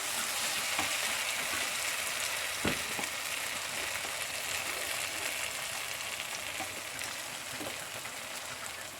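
Tomatoes and onions frying in oil in a pan for a soybean masala curry, a soft, steady close sizzle with light crackles and a few faint spoon clicks, no voices.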